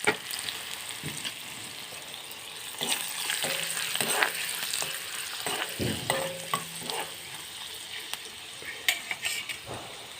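Chopped vedai lata and green chillies hit hot oil in a pan and sizzle steadily while a utensil stirs and scrapes, with several clinks of metal against the pan.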